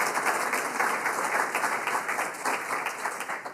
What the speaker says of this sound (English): Let's give all those folks a round of applause.